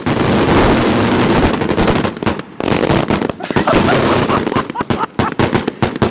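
Firecrackers and fireworks going off during a big 250th celebration, loud rapid strings of sharp crackling pops and bangs, first a dense barrage, then separate bursts with brief gaps between them.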